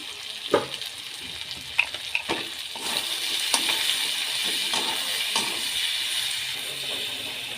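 Goat meat sizzles steadily in a pan with ginger-garlic paste, salt, chili powder, turmeric and cumin. A utensil stirs and scrapes it now and then, clicking sharply over the continuous frying hiss, with no talk.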